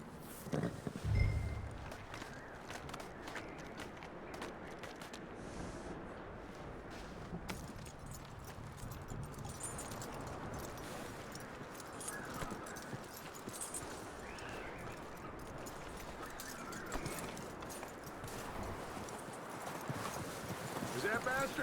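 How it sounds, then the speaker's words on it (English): Horse hooves clip-clopping steadily at a walk in the Red Dead Redemption 2 video game, a continuous rhythmic patter under a voice and ambient game sound. "That looks like a decent horse."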